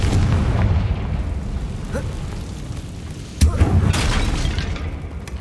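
In Hogwarts Legacy, the Confringo explosion spell goes off as a sudden booming burst partway through, set against a constant rumbling game backdrop.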